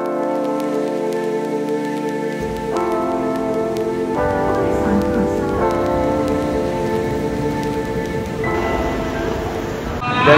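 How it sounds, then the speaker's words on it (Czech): Dense rain falling in Pattaya, a continuous hiss of drops on surfaces that stays steady throughout, mixed with a faint background hum and no talking. "Bohužel se celkem hustě rozpršelo, takže odjíždím, jak jsem přijížděl, v hustém dešti."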